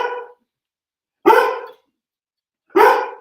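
Dogs bark in three loud, close, sharply separated bursts with silent gaps between, no voices present.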